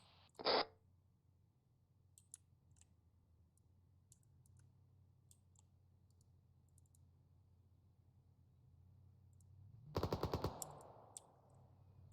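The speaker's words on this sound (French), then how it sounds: "Les tirs sont à ta gauche" Gunfire from the military simulation game Arma 3, a short burst near the start and a louder rapid automatic volley around ten seconds, with faint clicks and a low steady hum between them.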